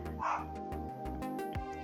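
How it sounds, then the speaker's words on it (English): Pet dogs barking at home nearby, a quick burst of yips, barks and a whimper over quiet background music, with a voice briefly audible. "I'm sorry, my dogs are barking,"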